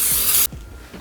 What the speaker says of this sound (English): my cooking spray is almost empty, so I've got to pray to the cooking gods that there is just enough left in this can